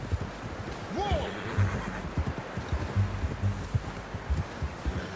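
A horse whinnies in Red Dead Redemption 2, a rising and falling call heard once near the start, over steady hoof clip-clop and shuffling movement in the game world.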